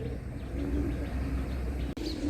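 Pigeons coo softly at a busy pigeon market, low murmuring calls repeating over a steady crowd and street din, with a brief dropout near the end.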